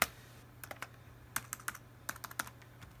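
Password being typed on a computer keyboard while connecting a fire alarm panel to a computer network: a quiet run of irregular, crisp key clicks, some in quick pairs, over a low steady hum.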